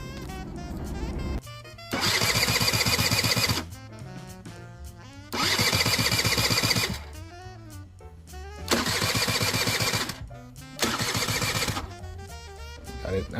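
A Gilera DNA scooter engine repeatedly cranking and catching, four loud revving bursts separated by quieter idle stretches, close by and alone without talk.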